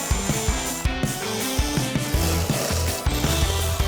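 A ratchet wrench loosens bolts while a wrecked Audi RS3's interior is stripped, giving rapid repeated clicking bursts, close and fairly loud, with no talking.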